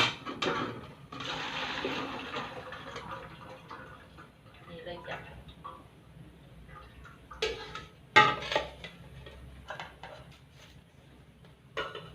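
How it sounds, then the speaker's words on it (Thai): Water is poured out of a pot after boiling pork, with splashing and clanking of the pot in a home kitchen; someone talks over the quieter stretches, and louder bursts of pouring rise near the middle. "เดี๋ยวจอยสิเทน้ำออก"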